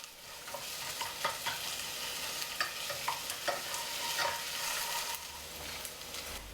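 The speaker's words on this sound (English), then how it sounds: "Add the onion and stir." Onion and garlic stirred as they fry in a pan, a steady hiss of sizzling oil broken by rhythmic scraping strokes of the spoon, close up and without any voices.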